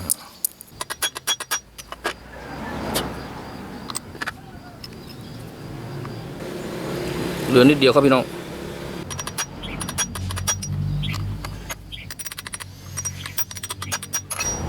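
Sharp metallic taps from hammering a new gear onto the shaft of a 4-inch Bosch angle grinder repeat in quick series at the start and end, close by, with someone speaking briefly in between.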